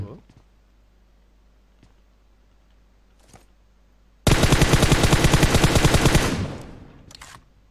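Automatic gunfire in the video game PUBG: after a quiet stretch with a few faint clicks, one loud, rapid burst of shots runs for about two seconds, then fades out.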